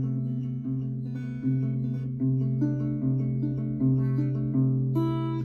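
Guitar chords strummed for a song tutorial, about six sustained strums with ringing low strings, close and clear with no talk.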